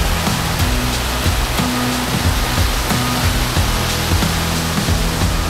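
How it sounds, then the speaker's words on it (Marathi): The Domzara waterfall roars as a steady, loud broadband rush of falling water, close by and unbroken, with a faint low hum underneath. "हा इथं वॉटरफॉल आहे."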